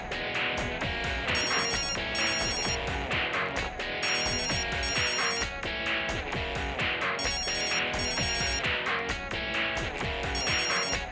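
A telephone rings over and over in a steady repeating pattern of bursts, loud and close with no talking, while other sounds layer densely around the ringing.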